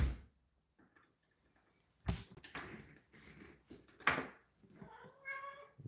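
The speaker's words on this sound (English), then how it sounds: "Well, here's a kitty." A cat meows a few times at close range, short rising calls with soft shuffling and tapping around them in an otherwise quiet indoor room.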